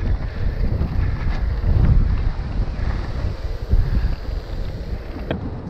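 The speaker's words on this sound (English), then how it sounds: "And a little windy." Steady wind buffeting a microphone outdoors during long-distance cycling, a continuous low rumble with gusty swells and no voices.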